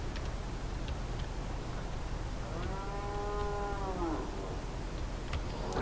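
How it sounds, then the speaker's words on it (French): In Euro Truck Simulator 2, a single long cow moo rises and fades near the middle, heard over the constant low rumble of a Volvo FH540 truck pulling a refrigerated trailer. "Vous entendez les vaches?"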